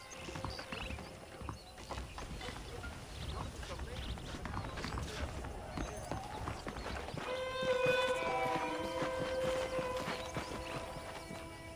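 Hooves clip-clop steadily through much of the clip with a whinny near the end, while a voice talks over the hoofbeats, in the video game Red Dead Redemption.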